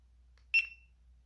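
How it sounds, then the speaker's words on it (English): A motorcycle helmet camera gives a single short, bright electronic beep as recording starts, close and clear against near silence. "then when you start recording, it beeps again."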